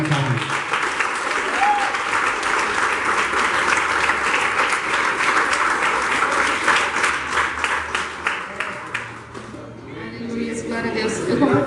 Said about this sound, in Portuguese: Aplauda o Senhor pela vida da nossa irmã Karine